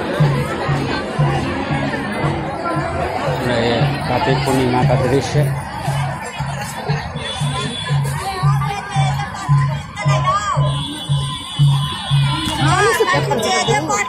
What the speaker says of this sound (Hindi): घाट किनारे कितना भीड़ है।